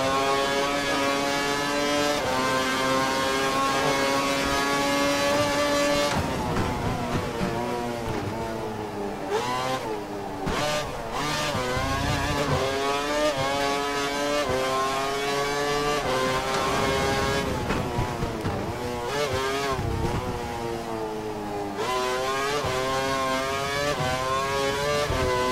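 A Formula 1 race car engine in the F1 2012 video game during qualifying in Hungary, screaming loudly through repeated rising gear runs, with sharp drops at each upshift and a steady high-pitched whine throughout.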